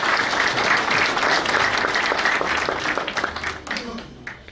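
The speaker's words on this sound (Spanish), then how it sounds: "Fuertes aplausos para todos ustedes y fuertes aplausos para nuestro distrito de Ceila." A crowd at a district anniversary celebration in Saylla applauds in a loud, dense wash of clapping that holds steady, then thins out and fades toward the end.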